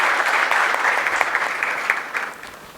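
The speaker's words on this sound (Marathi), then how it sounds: "जोरदार टाळ्या झाल्या पाहिजेत रोहित सरांसाठी" An audience at a Marathi poetry gathering claps loudly for a poet, a full dense round of applause that thins slightly toward the end, with no speech over it.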